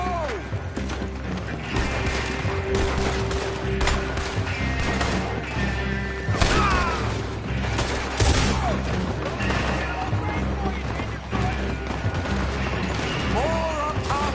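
Dense video game gunfire on a PS4, rapid overlapping shots and mechanical clatter in a busy firefight, with in-game voices shouting over the action.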